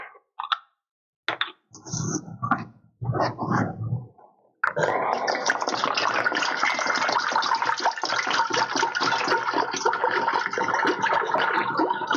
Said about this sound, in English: First step is to pour the gallon of water into a stock pot.